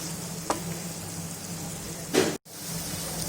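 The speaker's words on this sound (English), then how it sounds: "Saute the vegetables only for 2 to 3 minutes." Vegetables sautéing in a pan for chilli chicken fried rice, a steady low sizzle with a couple of brief stirring scrapes and a momentary cut-out near the end.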